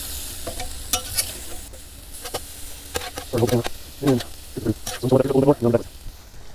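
Fajitas sizzle loudly on a Blackstone griddle, with a bright crackling hiss and rhythmic scraping as a spatula mixes them, close and prominent, with a voice speaking in between.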